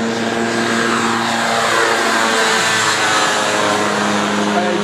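Ultralight aircraft, a V-winged hang-glider type trike at an airfield on Réunion, loudly throttling its engine back up after touching down; a steady propeller drone with a rising, sweeping pitch runs close and continuous throughout.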